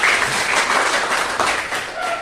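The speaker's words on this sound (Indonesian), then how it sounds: "Tepuk tangan semua." A classroom of pupils applauds after a story is told: a brief burst of dense, fairly loud clapping that fades slightly toward the end.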